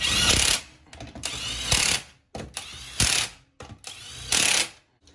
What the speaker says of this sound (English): So I've just adjusted it one click and it's still rotating quite freely.